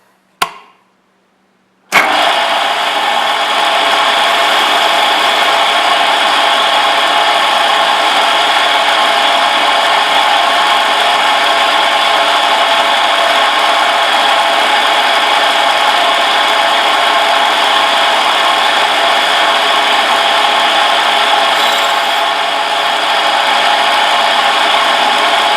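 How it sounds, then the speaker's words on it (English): An Alzmetall drill press spot faces two holes with a continuous loud whining hum of motor and cutter, starting abruptly after a brief click and staying steady and close for the rest. "we're going to go ahead and spot face these 2 holes and then come back and drill them"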